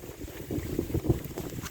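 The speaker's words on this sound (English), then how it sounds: "We got wind gusting up to probably 12 to 15 miles per hour" Gusty wind of about 12 to 15 mph buffets the microphone at an outdoor shooting bench, making a low, uneven rumble that swells and fades for under two seconds. No talking or shots are heard.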